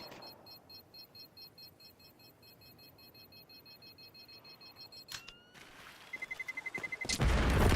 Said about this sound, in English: Kaboom goes the bomb